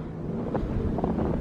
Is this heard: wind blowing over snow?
yes